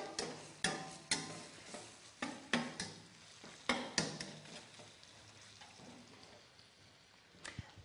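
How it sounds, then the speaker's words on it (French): Minced meat and onion cook in a pan, broken by a series of sharp, regular stirring clacks and taps over a soft background sizzle that fades toward the end. "Je vais attendre la cuisson de la viande hachée avec l'oignon"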